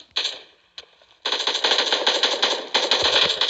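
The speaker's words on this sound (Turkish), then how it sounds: "Adam bana sıkıyor." Rapid automatic gunfire from the mobile shooter game PUBG Mobile Lite, with a couple of sharp shots, then a loud sustained burst of rattling fire that continues to the end.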